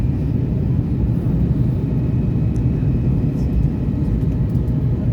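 Airliner landing at Krakow, heard from inside the cabin as a loud, constant low engine rumble and roar filling the whole stretch without letup.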